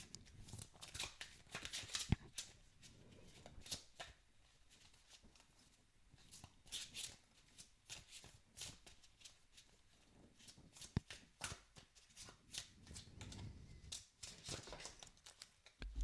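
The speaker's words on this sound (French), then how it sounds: "je vais rebattre le jeu pour qu'on ait d'autres indications" A deck of tarot cards being shuffled by hand, soft papery riffles and flicks in irregular bursts with short pauses, close and quiet throughout, with no talk.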